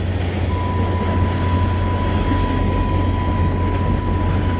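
Steady, loud rumble of a CSX freight train rolling close by at night in winter, with a constant low drone and a thin sustained tone running through it, no voices.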